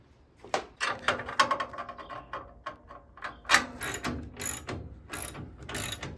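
A small hand ratchet clicks rapidly in short bursts while tightening bolts on a Traeger Ironwood XL pellet grill during assembly, close and fairly quiet, with brief pauses between strokes.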